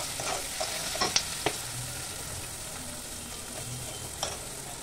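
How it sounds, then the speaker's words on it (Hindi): Onions frying with salt stirred in, cooked for potato, peas and cauliflower curry: a soft, steady sizzle under light scraping and a few faint utensil taps, fairly quiet throughout. "भुना गया तो नमक डाल देंगे हम, ताकि जल्दी से प्याज पूरा गल जाए।"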